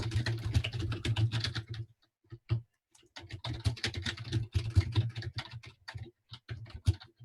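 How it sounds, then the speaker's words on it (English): Rapid typing on a computer keyboard, bursts of dense key clatter separated by a short pause, close and fairly loud with no voices. "Who's typing?"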